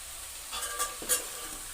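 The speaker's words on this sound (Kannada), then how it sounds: "ಇವಾಗ ಮಸಾಲೆ ಹಾಕ್ತಿದ್ದೀನಿ ಆಡಿಸಿ ರುಬ್ಬಿಟ್ಟಿದ್ದೀನಿ" Spices and ground masala go into hot oil in a pan for a ridge gourd gojju, with a soft spoon scrape and stir over a steady sizzle, close and fairly quiet with a few brighter clatters.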